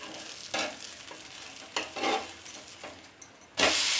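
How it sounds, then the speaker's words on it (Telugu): Jowar dosa frying with a spoonful of oil on a hot griddle pan: a soft background sizzle broken by several brief bursts of hissing and scraping, ending on a louder sustained sizzle. "దోశ వేసుకున్న తర్వాత పైన కొద్దిగా ఆయిల్ వేసుకోవాలి ఒక స్పూన్ ఇలా ఎర్రగా కాలిన తర్వాత తిప్పేసుకోవాలండి"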